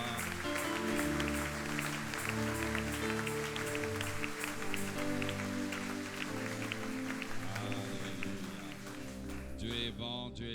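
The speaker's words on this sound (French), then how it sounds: "Est-ce qu'on peut acclamer pour le Seigneur ce soir?" A church congregation at an evening intercession service applauds and cheers for the Lord, a dense continuous roar of clapping and voices under steady music, sustained and loud throughout before thinning slightly at the end.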